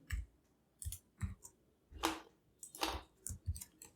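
Fingers type on a computer keyboard in a short, irregular burst of close, crisp clicks and key taps, with no voice.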